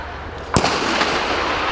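A starting gun fires at the start of a women's 60m dash at an NCAA indoor track championship, a single sharp crack echoing through a large arena with crowd noise continuing afterward.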